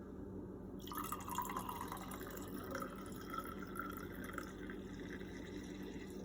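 Water is poured over coffee grounds in a pour-over filter, giving a soft, continuous trickling and dripping. It is faint and steady for several seconds.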